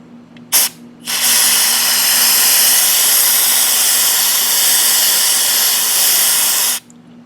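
Carb cleaner sprays onto the oil drain cap of a GY6 scooter engine in one long, loud, steady hiss lasting about six seconds, preceded by a short test burst.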